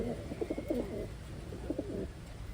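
Pigeons coo softly at a medium distance in two short bursts of low, throaty calls over a steady background hiss.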